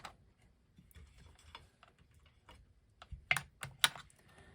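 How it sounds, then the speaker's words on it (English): Small plastic clicks and snaps come from a battery being pushed into a Seiko quartz alarm clock, quiet and scattered at first, then a few sharper close clicks near the end. "So I'm going to put a battery in."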